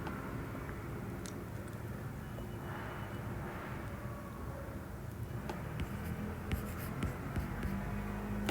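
Someone writes on a board, producing faint, continuous scratchy strokes with occasional sharp taps of the marker or chalk, set against a steady low background hum in a quiet room.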